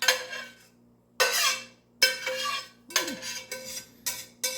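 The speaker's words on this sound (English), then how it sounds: "Sorry for the scraping noise." Metal utensil scraping green chile sauce across a baking dish over flat tortillas for New Mexican enchiladas, a series of about six loud, close scraping strokes separated by brief pauses, with no talking.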